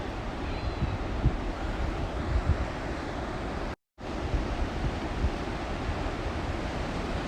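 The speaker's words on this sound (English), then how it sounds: "So just pause for the wave action over here." Ocean waves washing onto a rocky shoreline on an early morning coastal walk, a steady broadband surf wash with wind noise on the microphone, briefly cut out midway, with no talk.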